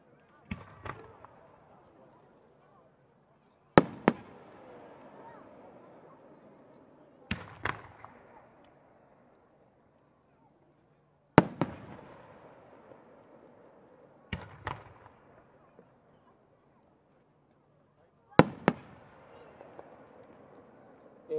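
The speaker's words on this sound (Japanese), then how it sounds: "この花火は菊、ワビと呼ばれる花火です" Chrysanthemum fireworks made from saltpeter, sulfur and charcoal burst one after another in the distance at Appi, Japan, six sharp booms spaced a few seconds apart, each followed by a fading crackling echo over quiet air.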